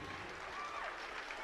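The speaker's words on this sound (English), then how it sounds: "another big round of applause to the all-academic team" A crowd at a high school girls' varsity basketball game applauds the all-academic team, a faint, steady wash of clapping heard from a distance across the gym.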